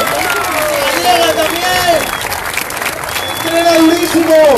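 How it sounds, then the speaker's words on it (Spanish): A crowd applauds at a street stunts speed contest in A Coruña, a steady wash of clapping and cheering throughout, with a loud voice calling out over it. "¡Fuerte aplauso para Maya!"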